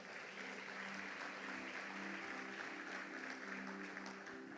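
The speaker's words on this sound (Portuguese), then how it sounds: "Você pode aplaudir Jesus Cristo?" A church congregation applauds steadily throughout, a dense wash of clapping with a faint sustained musical tone underneath and no speech on top.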